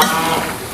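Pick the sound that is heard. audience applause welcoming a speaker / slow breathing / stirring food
stirring food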